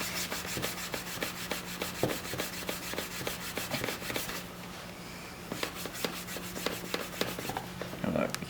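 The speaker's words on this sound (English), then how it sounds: "So you gotta rub." Cloth rubbing briskly over faded, sun-damaged ATV plastic in quick, steady back-and-forth strokes, close and fairly soft, with a short pause midway.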